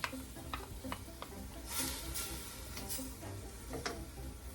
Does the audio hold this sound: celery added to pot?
yes